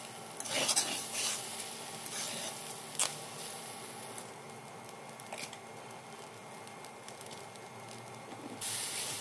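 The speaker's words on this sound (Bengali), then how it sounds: "পোলাও চালটাকে ভালো মতো ভেজে নেব।" Pulao rice frying in a pan with sugar, salt, ginger paste and cumin paste, a soft continuous sizzle with occasional scraping stirs and brief clatters, close and unaccompanied by talk.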